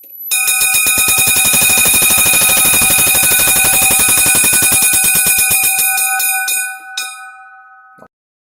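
A loud electric bell from an old, refurbished fire engine rings in a rapid, continuous clatter for about seven seconds, then cuts off, leaving a brief fading ring.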